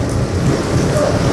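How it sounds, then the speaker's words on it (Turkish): Heavy storm rain pours steadily in Bebek, Istanbul, a dense continuous roar of rain on surfaces with low rumbling wind and possible thunder, loud and constant throughout, with no talking. "Görmüş olduğunuz gibi yağmur şiddetini artırdı."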